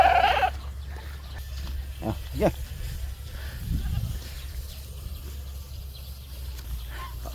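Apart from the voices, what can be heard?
goat bleating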